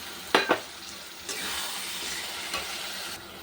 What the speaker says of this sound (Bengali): মশলা ভাজা হয়ে গেছে, তেল বেরিয়ে গেছে।